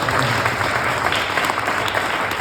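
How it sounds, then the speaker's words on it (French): Audience applause at a memorial tribute ceremony, a loud, dense burst of clapping from a full room that stays steady and close throughout the short stretch. "On peut l'applaudir, merci d'être là."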